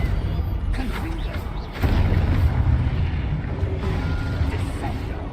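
A Confringo blasting spell in Hogwarts Legacy detonates with a sharp boom that gives way to a sustained rumbling blast, amid ongoing combat effects, with a voice calling out over it.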